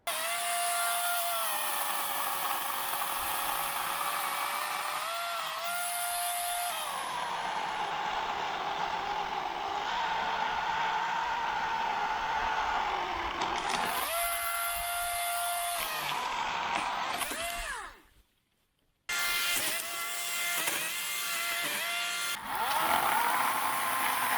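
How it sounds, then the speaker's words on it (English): A loud electric chainsaw whines steadily through wood, its pitch dipping under load, then cutting out briefly before starting up again near the end. "The electric chainsaw got stuck."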